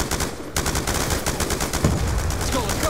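Rapid automatic gunfire rattles in Black Ops II as a loud, fast, regular string of shots that runs almost without a break after a brief gap near the start.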